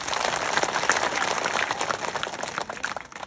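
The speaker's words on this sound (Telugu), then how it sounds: "గట్టిగా చప్పట్లు కొట్టండి" An audience at a spiritual discourse applauds with dense, steady clapping from many hands. The applause is fairly loud and continuous, then thins slightly toward the end.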